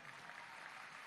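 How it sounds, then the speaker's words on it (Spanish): Audience applause at a governor's swearing-in ceremony in Zulia, heard as a steady, dense wash of clapping from a large crowd that holds constant through the brief moment. "Un gran aplauso"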